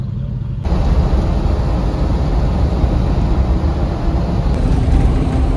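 A Jeep Wagoneer on the road hauling an old wood dresser, a loud steady engine and road roar heard from inside, starting abruptly and continuing without talk.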